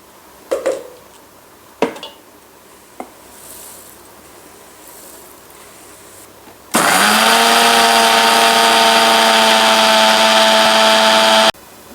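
A mixer grinder whirs loudly and steadily, grinding fenugreek seeds and cumin into powder, after a few knocks and clatters from loading the jar; the motor runs alone for about five seconds, then cuts off abruptly.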